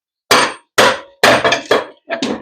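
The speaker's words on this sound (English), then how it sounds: "Hopefully we just be able to pop this out with a little hammer here, a little mallet" A small mallet strikes a part inside a 4L60E automatic transmission with five sharp, loud metallic taps in quick succession, each ringing briefly before the next, with no talk.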